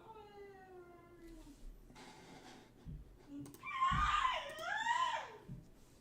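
A young boy screams in high, wavering shrieks a short distance away in a home, the loudest burst near the end, set against a quiet room.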